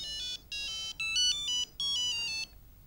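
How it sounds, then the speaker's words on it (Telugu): A mobile phone ringtone plays a bright electronic melody in short repeated phrases, fairly close and clear, with no voices over it. "ఈ ఫోన్ ఇప్పుడే రావాలా?"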